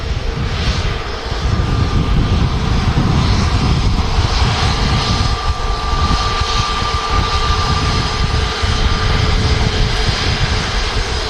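An EasyJet Airbus A320neo airliner vacating runway 23 right at Manchester Airport, its engines giving a loud continuous roar with a steady whine running through, heard alone and close.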